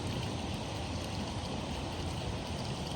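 River current flowing past an eddy while walleye fishing, a continuous broadband rush of water that is steady and fairly faint throughout, with no talking.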